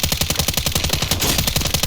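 Rapid automatic gunfire from Call of Duty: Warzone, a dense, loud burst of evenly spaced shots that rattles almost continuously for about two seconds, close and alone.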